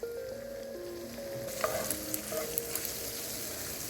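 Diced, drained sun-dried tomatoes sizzle steadily in a pan over leftover meats, with a soft continuous fry and a few clinks of stirring partway through, no voices.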